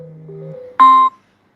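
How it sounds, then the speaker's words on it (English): An incoming phone call chimes on a phone during a live stream: a soft two-note tone followed by a louder, sustained electronic beep that cuts off abruptly, with no speech. "You're cutting out my stream with your phone call."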